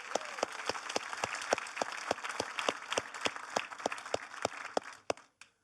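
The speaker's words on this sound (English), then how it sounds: "congratulate him now with a big applause" Audience applause at a Java developer conference, dense and steady with a few sharp louder claps standing out, running for several seconds before thinning out at the end.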